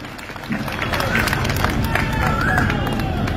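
A crowd at a political gathering claps in congratulation for Vijendra and Ashok, a loud, continuous wash of applause and murmuring that builds slightly after the opening and holds steady.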